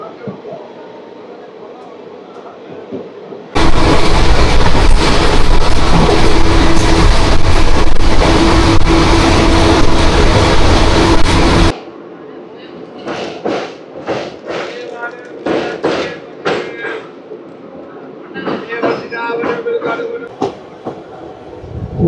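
The 12711 Pinakini Superfast Express passenger train pulling out of Nayudupeta station, a loud steady rumble for several seconds, then fading to rhythmic thumps and clatter, with people talking over it.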